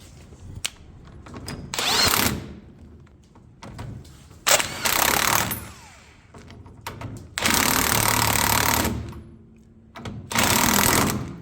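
A handheld power tool runs nuts down onto the rear leaf spring of a 1984 Toyota Pickup during a bushing install. It comes in four loud, close bursts of high whirring, each about one to two seconds long, with clinks and handling noise between them.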